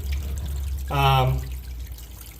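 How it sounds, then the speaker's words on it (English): Water rushes and splashes steadily as it spills over the top of a homemade machine built to catch ultra-fine gold. A brief low tonal hum rises in the middle of the wash. "the water I should say, is now spilling over the top"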